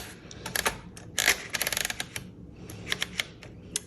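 Paper goes into a 1934 Underwood Universal typewriter: scattered mechanical clicks and short ratcheting bursts from the platen and paper bar, close and fairly quiet.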